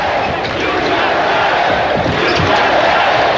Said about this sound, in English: Yeah, the crowd's in there.